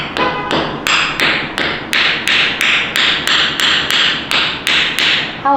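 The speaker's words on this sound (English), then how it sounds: "wrap it in a towel, take a hammer, have my safety glasses, and lightly tap until it breaks" A hammer lightly tapping a geode wrapped in a towel at Calico Ghost Town, about a dozen evenly spaced sharp taps, each with a short muffled ring, close and fairly loud with no talk.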